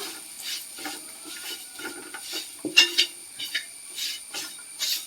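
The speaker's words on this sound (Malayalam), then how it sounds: "എല്ലാം കൂടെ ചേർത്തിട്ട് നന്നായിട്ടൊന്ന് ഇളക്കി കൊടുക്കാം" A spoon stirs spices in a pan for fish curry, making soft intermittent scraping and rubbing strokes with a couple of sharper knocks, close and fairly quiet, with no talking.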